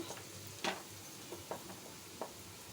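Kakrol (spiny gourd) pieces fry in a pan with a faint low sizzle, broken by a few soft scraping stirs and light taps of a spatula.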